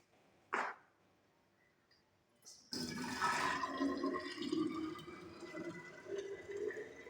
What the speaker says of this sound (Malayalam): അപ്പോൾ വെള്ളം നിറക്കാൻ പോവുകയാണ്.